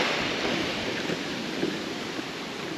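Waves and wind on a remote beach in Australia's outback north-west, a steady close wash of surf noise with wind buffeting the microphone and no talking.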